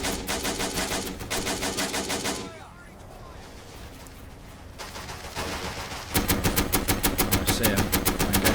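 Bursts of rapid machine-gun fire from a lone infantryman in the Men of War: Battleaxe war game, a dense sustained rattle that drops out midway to a quieter battlefield rumble, then returns louder and steadier.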